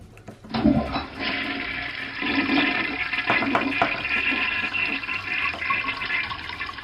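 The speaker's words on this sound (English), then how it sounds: "We'll flush the toilet one more time." A Kidsmania toilet bowl candy toy flushes with a loud rushing gurgle of sound effects, swirling on for several seconds before tapering off.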